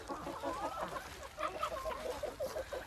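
Several chickens cluck and call close by in a muddy, rain-soaked enclosure after a heavy night storm, with a busy, overlapping stream of short fowl vocalizations.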